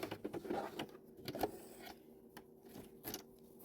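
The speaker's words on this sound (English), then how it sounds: "how much more control I have over the direction of the fabric if I'm sewing slower" A sewing machine runs slowly through fabric, its needle stitching in short uneven bursts with brief pauses between runs, close and fairly quiet, with no talking.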